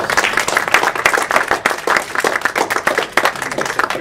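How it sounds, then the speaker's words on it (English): A group of attendees at the close of an online-instruction talk give a round of applause, a loud, continuous patter of many hands clapping with no speech over it. "Let's give a round of applause."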